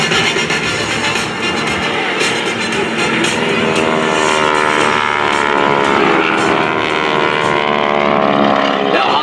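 A GEICO Skytypers vintage propeller aircraft flying the Guns G air show maneuver at NAS Patuxent River, a loud continuous engine drone with rising and shifting pitch throughout, alone without talk.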